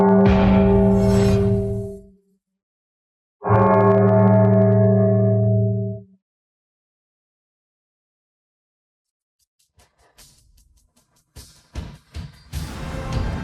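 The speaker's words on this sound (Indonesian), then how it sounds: "Siapa yang membunyikan lonceng?" A large bell, called the Changse bell, rings twice, each strike a loud, close tone that hums for a couple of seconds and fades. Faint rustling and clatter follow after a quiet gap.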